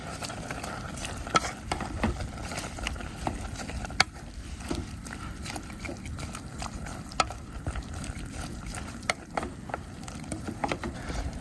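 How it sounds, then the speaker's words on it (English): Red squirrel meat being stirred in a hot pan over a campfire hunt setting, with scraping utensil strokes and a steady sizzling fry throughout, close and moderately loud, no talking. "Just give it a good mix."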